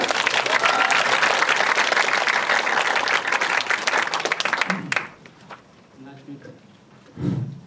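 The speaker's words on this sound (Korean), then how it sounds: "우리 라이딩 흉 팀을 힘찬 박수로 만나보시죠" Audience applause at a civic school final presentation event, loud sustained clapping for about five seconds that then stops abruptly, followed by quieter room sounds and a brief voice.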